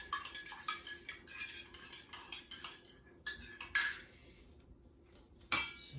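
Siopao dough with yeast being mixed in a bowl, a spoon or utensil clinking and scraping against the sides in quick irregular knocks, close and fairly quiet with pauses between.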